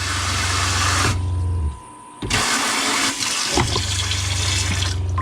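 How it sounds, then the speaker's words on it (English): Water runs from a faucet into a sink in a camper van build, a steady rushing stream that cuts off briefly, then resumes with a spray-like hiss, close and loud. "And we're running water into the sink,"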